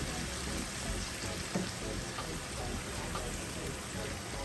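Curry leaves fry in hot oil in a pan, a steady dense crackling sizzle that stays loud and even throughout with no voices.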